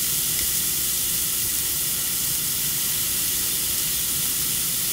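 Hands are washed under a running tap, a loud, steady rush of water that holds unbroken and close for the whole stretch, with nobody speaking.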